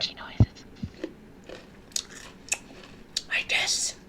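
Close-up crunchy chewing with sharp bites and scattered crackles, interrupted by faint whispering voices and a breathy burst at the end.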